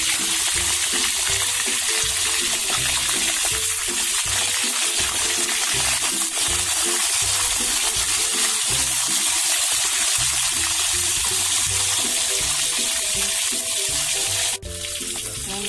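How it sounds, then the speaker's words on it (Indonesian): Tilapia fish frying in a Teflon pan, a loud, steady oil sizzle with crackling that runs unbroken through the whole stretch, with brief stirring or clatter near the end. "Untuk langkah pertama kita goreng dulu ikannya."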